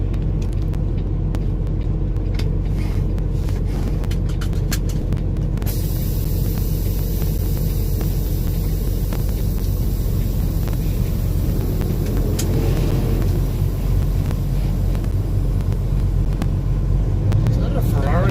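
A vehicle drives down the road on a live trip from Victorville toward Colton and Arizona, a steady loud road rumble and engine drone with wind noise throughout, and a voice speaking over it.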